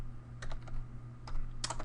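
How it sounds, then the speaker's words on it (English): Keys clatter on a computer keyboard as a short command is typed, a few quick close taps in small clusters over a low steady background hum. "we can type in netstat"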